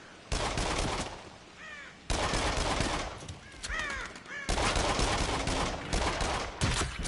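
Crows cawing repeatedly in the VR shooter game Until Dawn: Rush of Blood, harsh calls layered over loud bursts of gunfire in three dense stretches.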